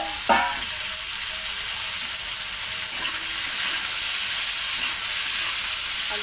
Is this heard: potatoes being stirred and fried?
yes